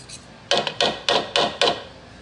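Lemon zest is scraped and tapped off the back of a metal grater with a fork, five or six quick rhythmic rasping strokes, close and fairly loud, with no talking.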